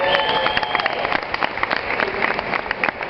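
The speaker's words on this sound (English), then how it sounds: "You got to clap louder." Crowd clapping at a Republican political rally in Champaign County, Illinois: dense, steady applause with scattered sharper claps, fairly close and continuous, with faint crowd murmur beneath.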